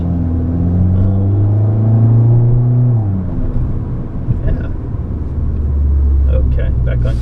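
A 2015 Fiat Abarth drives through hard turns, its engine a loud steady rumble with changing pitch as it revs up and eases off, and a voice briefly heard inside the car.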